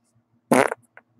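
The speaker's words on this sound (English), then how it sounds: "I got a fart with your name on it" A single loud, close fart bursts out and quickly trails off, with a faint tail just afterward in otherwise quiet surroundings.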